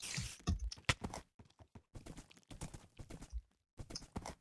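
A horse in a survival video game clops along with quick, irregular hoof steps, crisp and close, a busy patter of hits separated by short gaps.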